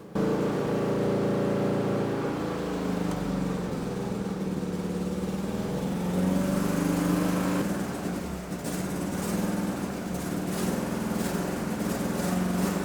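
A Citroën GSA flat-four engine, freshly rebuilt after failure with a badly refitted exhaust manifold, runs unevenly at idle, a steady close mechanical drone that wavers before the running falters; no one speaks.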